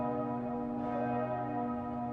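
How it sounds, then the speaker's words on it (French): Church bells toll loud and sustained, a rich ringing chord held steadily throughout, sounding in Germany to mark the death of Marshal Hindenburg. "toutes les cloches retentissent pour annoncer la mort du maréchal Hindenburg"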